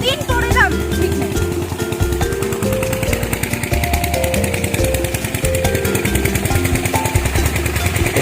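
A machine runs steadily nearby in a garden, giving a continuous pulsing, chugging engine drone with a shifting tonal whine, loud and close throughout.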